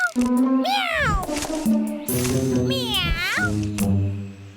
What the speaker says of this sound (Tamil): meow meow